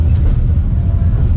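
A train crosses the Karnaphuli bridge on the Chittagong to Cox's Bazar line, giving a loud, steady low rumble that runs unbroken through the whole short stretch, with no voices over it.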